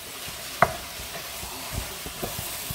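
Beef pieces brown with onions in a pan, a soft continuous sizzle with light scraping stirs and one sharper clink of a utensil, close by and without speech.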